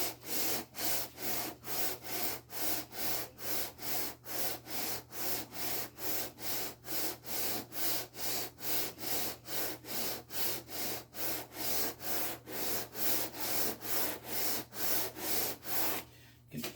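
Wood is rubbed back and forth in steady, even strokes while the fretboard of a handmade bass guitar is sanded to a radius. The rasping sound is close and quiet, and no one speaks.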